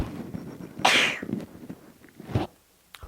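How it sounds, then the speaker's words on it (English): A single loud, close sneeze bursts out, followed by a quieter breathy sound, with light handling noise in an otherwise quiet room. "I'm going to sneeze again."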